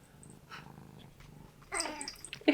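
A house cat in a studio makes soft purring and low murmuring sounds, then a louder, brighter meow-like burst near the end, close and alone without talk.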